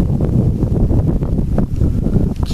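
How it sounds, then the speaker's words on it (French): Strong wind blows around an abandoned building, a loud continuous buffeting roar with gusty pulses battering the microphone throughout. "là il y a pas mal de vent"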